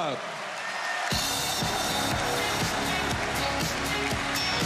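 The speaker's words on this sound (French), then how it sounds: "Mesdames, Messieurs, applaudissez-les maintenant" Stadium audience applauding the Paris Saint-Germain sports staff: after a short stretch of announcer speech, loud sustained applause breaks out from a large crowd, with the announcer's amplified voice continuing over it.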